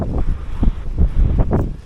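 Gusty sea wind buffeting the microphone in rhythmic low rumbles, with a broad, steady rush of air underneath, on the coast at Baleno, Masbate.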